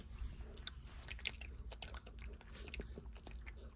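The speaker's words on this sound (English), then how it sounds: "I can hear you crunching it." Close crunching and biting on a snack during a ferry trip, short dry crackles repeating irregularly over a low steady engine-like hum.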